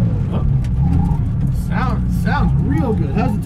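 A 1970 Porsche 911, raced in-period and now rat-rodded, runs with a steady low engine drone throughout while people talk over it.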